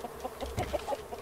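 Chickens in the survival video game Raft cluck softly in a quick string of short, evenly spaced calls, faint and alone.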